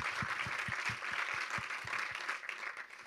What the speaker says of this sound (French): vous pouvez applaudir également